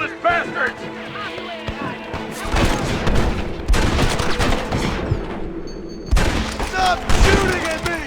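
Gunfire in a Red Dead Redemption battle, a loud, dense fusillade of rapid shots that swells into heavy bursts and echoing bangs, with shouted voices mixed into the din.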